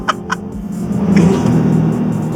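Two quick clicks, then a Dodge Charger SRT Hellcat's 6.2-litre supercharged V8 Hemi rumbles up into a steady loud drone with a faint high supercharger whine, close by.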